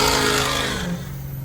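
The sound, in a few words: Ford 6.0 truck engine revving as the transmission shifts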